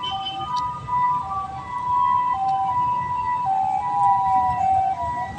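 An ambulance siren wails continuously, its tone sweeping up and down over the low rumble of traffic, fairly close and steady throughout.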